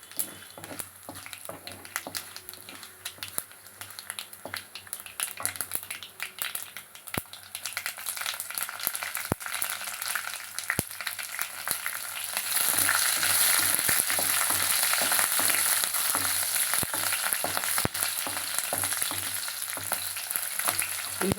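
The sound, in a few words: onions and green chillies frying in tempering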